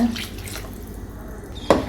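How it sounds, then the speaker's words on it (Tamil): Water is poured into a cooking pan of paneer butter masala gravy, a soft continuous trickle with a faint splash near the end, close and fairly quiet. "கொஞ்சம் தண்ணி சேர்த்துக்கலாங்க."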